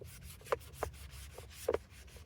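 Rubbing strokes of a cloth or hand cleaning a sharpening stone used for a plane iron, a few soft scrubbing passes with brief louder swipes, close and fairly quiet.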